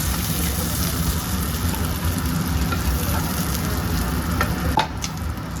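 Potatoes fry in hot oil with a dense, constant sizzle up close, broken by occasional scraping and stirring clinks.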